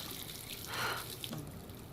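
Water runs briefly from a bathroom sink tap in the Life is Strange video game, a soft steady splash that swells for a moment in the middle before tapering off, close and fairly quiet.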